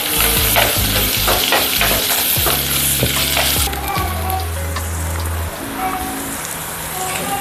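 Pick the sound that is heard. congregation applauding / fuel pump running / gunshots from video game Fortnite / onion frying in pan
onion frying in pan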